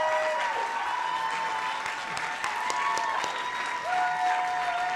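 A crowd at a Class Day awards ceremony claps steadily and loudly, a dense wash of applause that runs throughout with a few faint whistles or voices mixed in.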